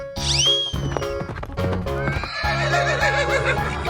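A horse in a 3D animal video game gives a loud, high whinny that falls away, followed by game music and a second drawn-out neigh over clip-clop hoofbeats.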